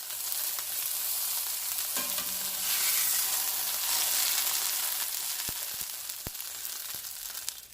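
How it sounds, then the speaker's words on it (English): Loud, steady sizzling of a tortilla frying in enchilada sauce in a hot pan, with occasional stirring and a few sharp clinks of a utensil toward the end. "You're basically frying the tortilla with the sauce."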